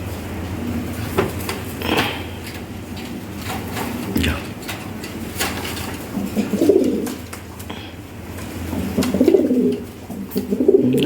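Pigeons for sale coo in short soft bursts around a busy seller's stall, with a voice talking nearby and occasional clatter in the background.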